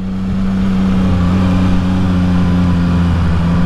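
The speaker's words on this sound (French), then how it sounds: "On va accélérer mais gentiment avec. J'ai pas d'à-coup à l'accélérateur." A CF Moto 675 NK motorcycle accelerates gently, its engine holding a loud, smooth, steady hum that rises only slightly, with no abrupt throttle changes.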